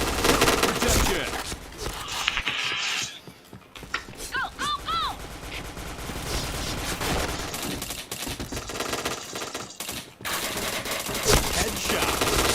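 Gunfire from the shooter game Point Blank comes in loud rapid bursts and single shots with clattering mechanical effects and a short rising tone in the middle, under and between a player talking.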